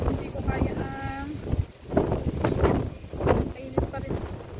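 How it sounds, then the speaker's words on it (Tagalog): Strong gusty wind at Luneta park buffets the microphone with low rumbling roars that swell and fade, while people talk faintly underneath. "Super hangin. Ang hangin talaga."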